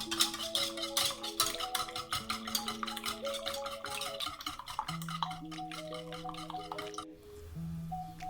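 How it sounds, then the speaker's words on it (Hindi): A hand beater whips eggs in a bowl with a rapid, continuous scraping whir, close and steady for about seven seconds before it stops, with faint sustained tones underneath. "इसे मैं ये हैंड बीटर की मदद से अच्छे से बीट कर लूँगी अंडों को।"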